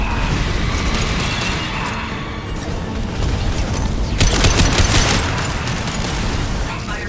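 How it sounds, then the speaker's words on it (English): An anti-ship battery firing inside a Collector vessel in Mass Effect 2, a dense rumbling wash of booms and blasts that swells into a louder burst midway, continuous and heavy throughout. "Firing anti-ship battery in the collector vessel."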